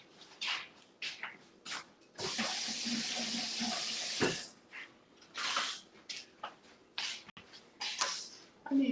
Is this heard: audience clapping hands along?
no